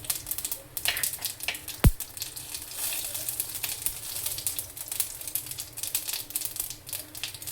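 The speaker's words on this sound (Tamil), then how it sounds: "கடுகு பொரியட்டும்" Mustard seeds spluttering in hot oil in a kadai, a dense run of sharp crackles and pops over a steady sizzle, with one louder snap near the start, close and alone without talk.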